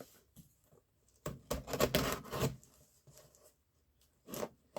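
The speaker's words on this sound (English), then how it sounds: "we gotta have the knife, the right correct knife to cut this thing open with" A knife slices open a cardboard shipping box holding flintknapping tool supplies, with close, scratchy tearing cuts in a couple of short bursts separated by quiet pauses.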